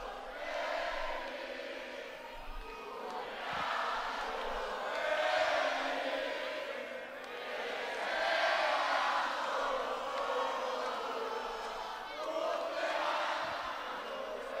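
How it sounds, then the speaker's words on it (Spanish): A concert crowd sings happy birthday together in unison, a loud sustained chorus of many voices with cheering swelling and fading across the stretch. "Bueno, pero primero la cantamos el cumpleaños feliz a Marta, ¿o qué?"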